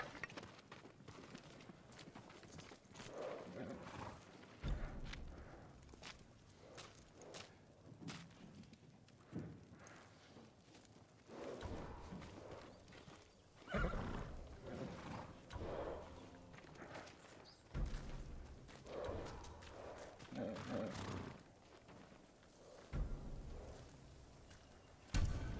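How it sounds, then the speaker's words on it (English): Samurai horses in the video game Ghost of Tsushima clop their hooves in an uneven, shifting rhythm that swells and fades, close and fairly loud, with almost no talk over it. "They're samurai horses."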